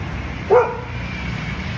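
A dog on an island gives one short, loud bark close by, standing out against a quiet outdoor background before things settle again.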